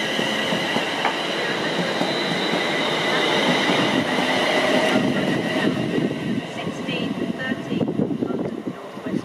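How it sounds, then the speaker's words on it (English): A London Northwestern Railway train rumbles along a platform at Watford Junction station, a loud steady roar of wheels on rail with squealing and clicking, fading slightly toward the end, with faint announcement-like voice behind. "train to arrive at platform 7 will be the 1534 London North Western Railway service to London Euston"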